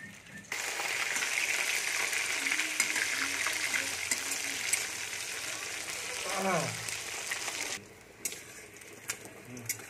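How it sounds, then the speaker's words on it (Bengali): Rohu fish pieces fry in hot oil in a village kitchen, giving a steady sizzling hiss that starts suddenly and continues for several seconds, with a brief voice over it before dropping to quieter background. "এখন মাছটা ভাজা হয়ে যাক"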